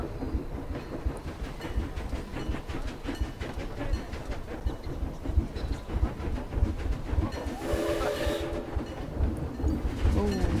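A train running in the Planet Zoo video game, a continuous rumbling roll with rhythmic clickety-clack and a brief brighter squeal near the end, no talking.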